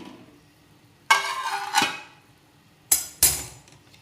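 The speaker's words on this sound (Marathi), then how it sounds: "झाकण काढते मी" Metal clatter from a cooking pot lid being taken off as fish curry cooks: a sharp clank with a ringing scrape, then two more quick metallic knocks after a pause, close and fairly loud, no voices.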